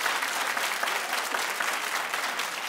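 Studio audience on a daytime talk show bursts into steady, dense clapping that fills the room evenly for a few seconds, with no voices over it.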